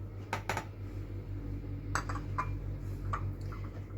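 A whisk or spoon works eggs and sugar together in a bowl for a shredded-pastry (kadayıf) cake batter, giving scattered light clinks against the bowl over a low, steady background hum.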